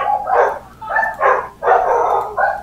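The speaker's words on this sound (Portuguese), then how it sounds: "Cachorro, tem um cachorro aí, latindo essa porra, mano." A dog barking in a steady series of loud, close, repeated yaps and barks, several in quick succession with short gaps, heard alone without talk.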